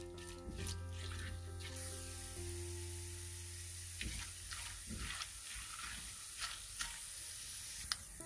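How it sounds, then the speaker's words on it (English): Chana dal, mustard seeds and cumin seeds fry in hot oil for a rice rava buttermilk upma, a soft steady sizzle with light stirring scrapes and a few faint clinks, close and quiet, no voices. "we'll add chana dal, mustard seeds and cumin seeds, and allow the chana dal to fry a little bit"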